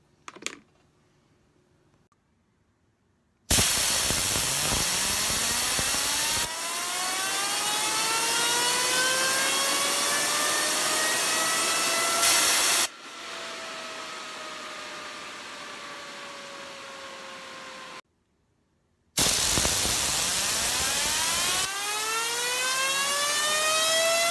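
An Axiom TRIAX fidget spinner spins with a steady, loud whirring hum that slowly drops in pitch as it slows, heard in several separate spins broken by brief silent gaps.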